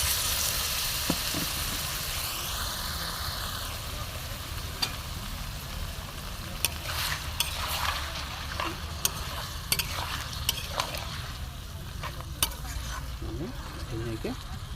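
Assam-style local chicken and fried potatoes sizzle in a pan as a spoon stirs and scrapes, with steady frying crackle and clinks throughout and a voice talking at times.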